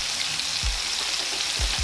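Turkey sizzles in vegetable oil for teriyaki, a close, steady, crackling fry with soft occasional thumps of the meat or pan.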